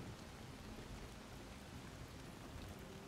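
Steady rain falls in the video game Soulmask, a continuous soft hiss of drops at low level with no other sound over it.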